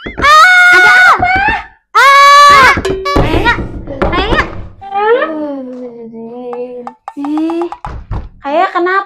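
A child screams and shrieks loudly in repeated piercing bursts, mixed with shouted cries and voices, sharp and close, with a short pause between the first outbursts.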